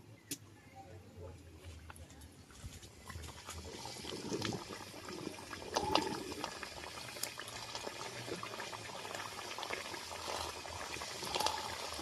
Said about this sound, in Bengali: আমি একে একে বিস্কুটগুলো তেলে ছেড়ে দেব